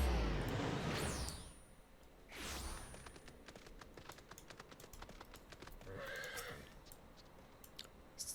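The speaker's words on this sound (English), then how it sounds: "Horse, magical horse." A magical horse mount in Final Fantasy 14 whinnies twice in quick succession, then clip-clops steadily, with another short snort or whinny near the end. Faint keyboard typing runs underneath.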